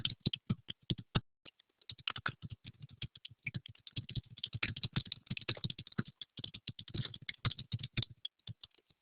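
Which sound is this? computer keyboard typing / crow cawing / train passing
computer keyboard typing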